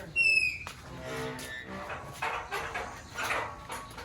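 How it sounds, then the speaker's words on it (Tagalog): A dog barks a few times at a distance in the mountains, under soft talking and outdoor background noise. "May aso pala."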